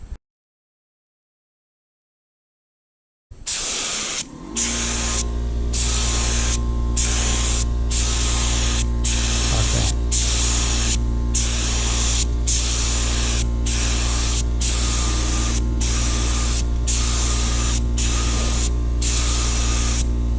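An air sprayer paints the side of a school bus being converted, starting after a few seconds of silence, then a loud steady hiss of spray with a constant compressor hum and regular brief pauses as the trigger is released.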